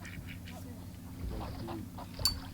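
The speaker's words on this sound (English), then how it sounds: "The ducks don't care, do they, look?" Ducks quacking outdoors by water, several faint nasal calls scattered at moderate distance amid low background noise and murmuring voices.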